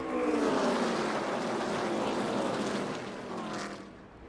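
A pack of NASCAR Xfinity race cars roars down into turn 1 at Pocono Raceway, a dense wash of engine noise that builds loud early and then eases as the field moves away.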